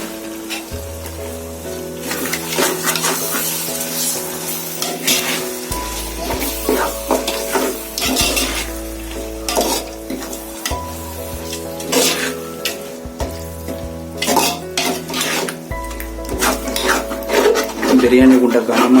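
A spoon repeatedly scrapes and stirs 1.5 kg of turkey biryani in a heavy pot, with close, rhythmic metal strokes over a soft sizzle and a low steady hum.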